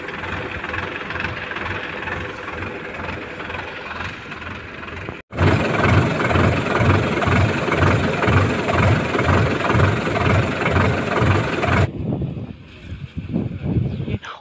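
A farm tractor engine idles with a low, rhythmic diesel thumping that grows louder and nearer midway, then drops back to a quieter, uneven chug near the end.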